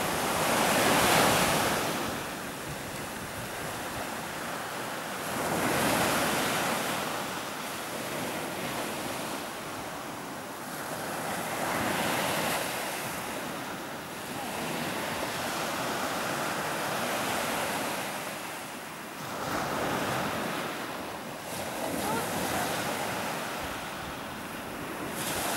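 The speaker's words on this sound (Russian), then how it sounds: "Волны, конечно, шикарные." Ocean waves roll in and break on rocks along the southern coast of Koh Samui, Thailand, surging in loud repeated swells every few seconds with steady wind noise and no voices.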